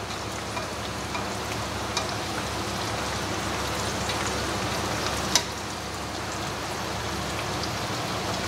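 Tofu fries in hot oil for a vegetarian bún bò Huế, a steady close crackling sizzle with scattered pops and one sharper spatter, no talk over it.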